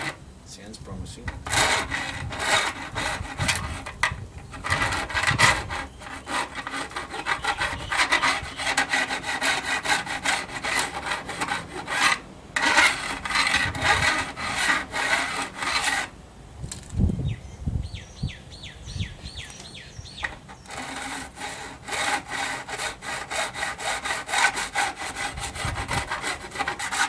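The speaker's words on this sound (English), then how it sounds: "we're going to test this out now, just see how it goes against stainless steel frets" A homemade fret end file worked against stainless steel guitar frets, giving a steady, close rasping scrape of repeated filing strokes that runs almost without a break, with a few brief pauses.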